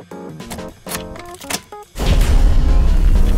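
A fictional ship, the Admire, rumbles to life in the video game Goddess of Victory: Nikke: a sudden loud, broadband roar kicks in after a stretch of tonal music and then holds steady and heavy to the end.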